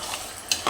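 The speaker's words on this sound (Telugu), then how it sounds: "ఇప్పుడు మళ్ళీ బాగా కలుపుకుందాం." Mutton curry stirred in a pot for a ragi sankati meal, with a soft continuous scraping and sizzle and two louder spoon strokes near the end.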